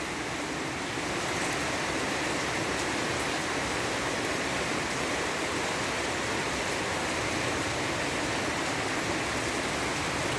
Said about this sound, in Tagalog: Ayan, sige, ulan.